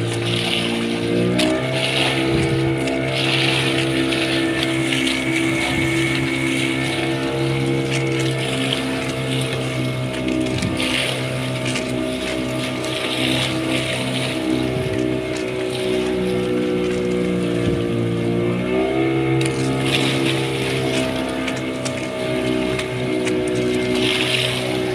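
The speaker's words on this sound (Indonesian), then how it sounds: "Suasana di perahu." Motorboat engine droning steadily through a boat trip to a white-sand beach, a continuous loud hum with pitch shifts near the start and again around two-thirds through, with no talking.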